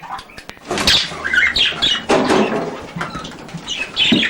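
A caged budgerigar at a bird show flaps its wings in a burst of close, fluttering rustles with a few squawks, as it is put back into its cage.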